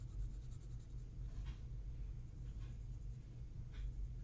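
Pencil sketching a nose onto carving wood, with a few short, faint scratchy strokes over a steady low room rumble, no talking.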